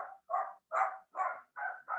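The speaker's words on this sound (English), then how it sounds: "Do you guys hear my dog's barking?" A dog barks indoors about six times in quick, even succession, each bark a short moderate burst with brief gaps between.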